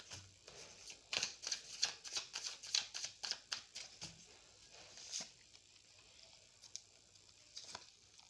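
A deck of tarot cards shuffled by hand nearby, with a steady patter of rapid papery flicks for several seconds before thinning to a few soft slides and a final faint snap.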